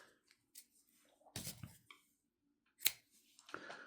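Scissors snip through crochet yarn at the end of a half double crochet leg warmer, a couple of quiet crisp cuts with soft handling rustle between them, close and without talk.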